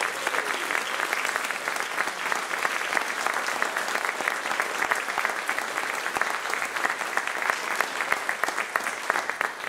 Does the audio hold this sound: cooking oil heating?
no